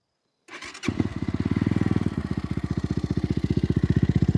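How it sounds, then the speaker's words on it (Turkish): An RKS M250 motorcycle starts up and settles into a steady idle, its exhaust thumping in an even, rapid rhythm close by. "egzoz sesini de dinletelim çıkmadan. Rolantideki sesine bakalım"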